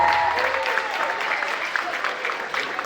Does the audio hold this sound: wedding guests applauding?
yes